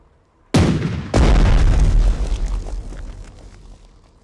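An explosion in the World War II Pacific strategy game Strategic Mind: The Pacific: a sharp loud blast is followed half a second later by a heavier deep boom that rolls and rumbles away over several seconds, with no voices.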